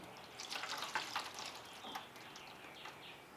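Play-Doh soaked in Drano pours out of a container as a thin, muddy slop, giving faint wet splashing and dripping sounds in short irregular bursts, quiet and close, with no talk.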